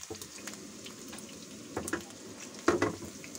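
Chopped chicken fried roast-style in a pan for chicken chowmein, giving a steady close sizzle with a few sharper clatters of stirring near the end.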